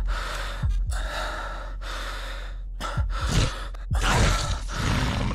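A player character in the Folklore Hunter video game breathes heavily and loudly, with repeated gasping inhales and sighing exhales in an uneven rhythm, close and alone.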